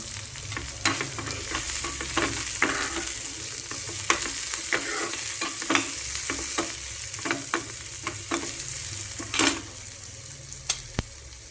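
Chopped tomato fries in hot oil in a pan for chicken 65 curry, giving a continuous loud sizzle with repeated clinks and scrapes of a spoon stirring throughout.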